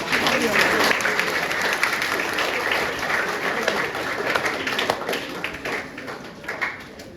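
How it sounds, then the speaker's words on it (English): Audience applause at a football player pathway presentation, dense sustained clapping from a crowd that gradually thins toward the end, fairly close and loud. "I think he deserves a round of applause for scoring that"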